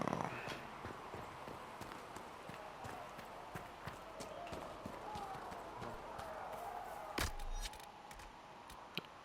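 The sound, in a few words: horse hooves clip-clopping in a video game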